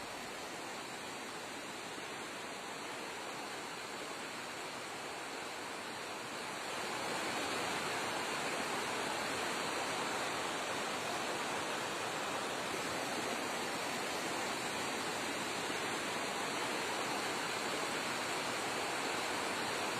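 Strong floodwater rushing after heavy rain in Uttarakhand, a loud, steady broadband roar that swells and thickens about a third of the way in, then holds unbroken with no voices.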